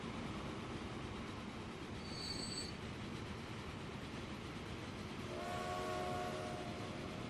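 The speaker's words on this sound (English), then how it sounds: "This goods train is heading back" A goods train in the Transport Fever video game rolls along in a steady rumble, with a brief high horn note near the middle and a squealing, whistling tone toward the end.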